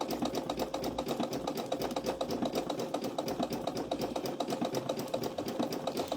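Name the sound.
sewing machine stitching fabric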